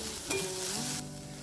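Moth beans fried with tomato and turmeric are stirred in a pan, a soft steady sizzle with a quick scrape of the spoon near the start and another at the end.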